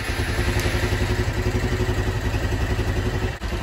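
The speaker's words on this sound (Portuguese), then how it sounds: "Agora bora ligar aqui a moto para ver se tá funcionando tudo direitinho" A 160 motorcycle engine starts and runs steadily at idle, a close, continuous mid-pitched chug with a brief dip near the end.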